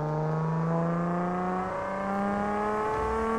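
A Nissan Skyline GTR R34 engine in American Truck Simulator, played on a Logitech G29 wheel, revs steadily and loudly, its rising and falling harmonic whine holding throughout with no pauses.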